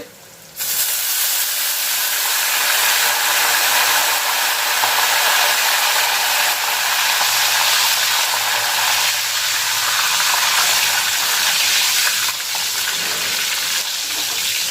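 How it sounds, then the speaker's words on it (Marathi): Water splashed onto thin potato chips frying in hot oil erupts into a loud, dense hissing sizzle that starts abruptly and holds steady for many seconds, easing slightly near the end, with no voices. "मी आणखी एकदा पाणी मारून घेते"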